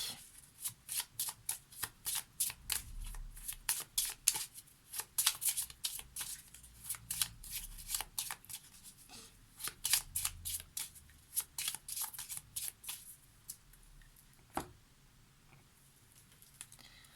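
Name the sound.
shuffling cards for a Lenormand card reading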